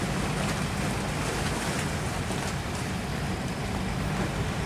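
A fishing boat's engine drones continuously at sea off Binh Thuan, Vietnam, blending with rushing waves and wind into a loud, unbroken roar.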